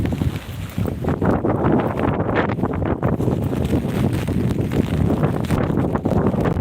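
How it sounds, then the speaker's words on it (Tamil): Strong gusting wind from Cyclone Fengal roars continuously near Meenambakkam by Chennai airport, a loud rushing buffet across the microphone with no pause. "இவ்வளோ நேரம் காற்று இல்லை நல்லா மழை இருந்துச்சு இப்போதான் காற்றடிக்குது"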